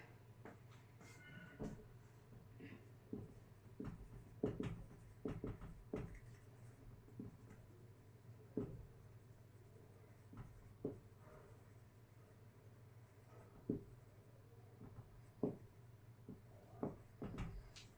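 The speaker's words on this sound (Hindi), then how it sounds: "यहाँ पे लिख देती हूँ मैं सेंटेंस" Handwriting a sentence with a pen on paper: a steady series of soft scratchy strokes and light taps, close and fairly quiet, with short pauses between words.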